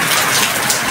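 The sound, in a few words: heavy rain during a typhoon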